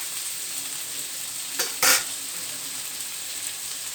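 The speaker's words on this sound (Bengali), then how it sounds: "পেঁয়াজটা আমার একটু ভাজা হোক।" Onions frying in a pan for a brinjal kasundi dish, heard as a steady, quiet sizzle with two brief scraping stirs partway through, no voices.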